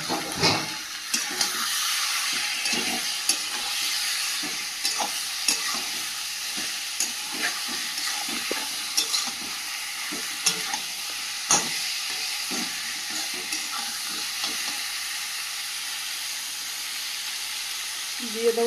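Meat fries in oil with fried spices, a steady loud sizzle and hiss carrying throughout, punctuated by repeated scraping and clacking strokes as it is stirred, close up.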